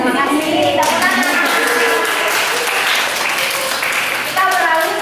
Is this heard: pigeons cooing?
no